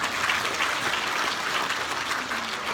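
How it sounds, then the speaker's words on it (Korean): Steady, dense applause from a lecture audience, continuous clapping at an even level throughout with no voices standing out. "다시 한번 큰 박수 부탁드리겠습니다"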